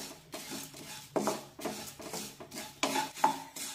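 Poha roasts in a pan over a low flame while a spatula stirs it steadily, giving rhythmic soft scraping strokes against the metal, about eight sweeps in a row, quiet and close.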